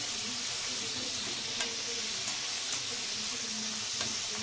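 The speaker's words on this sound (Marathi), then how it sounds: "असं पलटी मारत राहायचं, म्हणजे दोन्ही साईडने व्यवस्थित शेकली जातात" Chakli made from besan and rice flour frying in hot oil as they are turned over. A dense, steady sizzle runs throughout, close and loud, with a few faint clicks from the turning.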